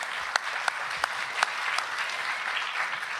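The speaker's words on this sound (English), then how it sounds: "let's give them a round of applause for all the work that they do on that" Steady audience applause at the Hometown Media Awards 2023, a dense, even patter of many hands with a few sharper claps standing out, fairly distant and filling the room.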